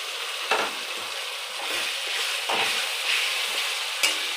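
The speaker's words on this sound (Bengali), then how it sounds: "আদা রসুন লঙ্কার পেস্টটা দিয়ে দিচ্ছি" Ginger, garlic and chili paste with capsicum sizzling in a pan for chilli chicken, with steady close frying hiss and periodic scraping stirs roughly every second.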